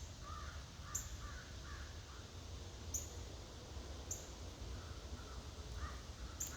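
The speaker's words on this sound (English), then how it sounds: "Crows in the background." Crows cawing in the background outdoors, a few faint distant caws spaced apart over a low steady ambient hum.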